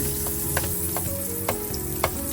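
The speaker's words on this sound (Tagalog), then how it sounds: "Naglagay na ako ng mantika at butter" Oil and butter sizzle steadily in a pan for a creamy chicken mushroom dish, a close, even frying hiss broken by a few light pops.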